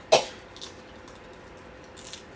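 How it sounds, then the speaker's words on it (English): One sharp cough bursts out close and loud at the start, followed by a quieter short throat sound and faint rustling in a mostly quiet room. "Sorry, I'm coughing."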